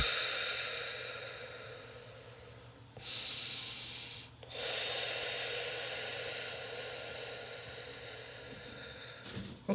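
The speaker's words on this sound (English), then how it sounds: "inhale through the nose, exhale through the mouth" Slow, deep breathing close to the mic: a long airy inhale through the nose, a brief pause, then a fuller exhale through the mouth. The breath noise is soft and broadband, with no talking.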